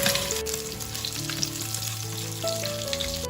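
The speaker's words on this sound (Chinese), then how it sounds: "五花肉煎到两面金黄，就把料头加进来，翻炒一下，加入几块冰糖，炒到冰糖融化" Pork belly stir-fried with rock sugar in a wok sizzles loudly and steadily throughout, with faint tonal sounds running underneath.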